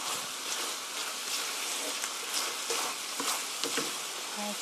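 Chicken and cabbage stir-fried in a pan give a steady, dense sizzle with scattered stirring scrapes and pops, close and continuous without talk.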